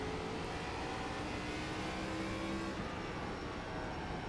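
An ARCA stock car at Irwindale in the iRacing simulator, its engine droning loud and steady at high revs throughout, with a slight shift in pitch near the end and no voices.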